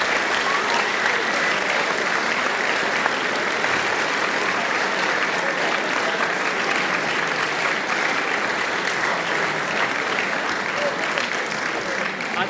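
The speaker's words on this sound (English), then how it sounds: "A huge round of applause to Alex Tester" Loud, sustained audience applause at a university inter-society partsong choir competition, dense continuous clapping with crowd noise, steady and close for the whole stretch.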